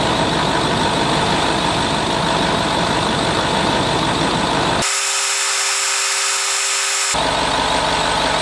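A loud, continuous mechanical hum of a Range Rover Sport engine idling runs throughout, steady and close, with a brief shift in tone partway through.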